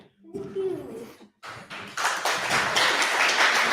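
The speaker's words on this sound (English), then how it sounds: "You get multiple rounds of applause, all because Bill wasn't ready" An audience breaks into applause, a dense patter of clapping that starts after a few soft taps and thuds and builds to a full, sustained round lasting several seconds.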